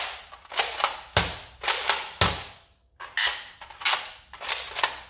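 An X-Shot Vigilante toy blaster, a cheap two-shot model, is primed and fired repeatedly: sharp mechanical clacks and snapping shots in a quick close sequence, with no talking.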